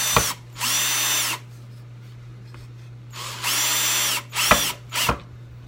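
Power drill driving screws into wooden boards of a pallet sign: two long steady whirring bursts separated by a pause, then several short quick pulses, close and loud over a constant low hum.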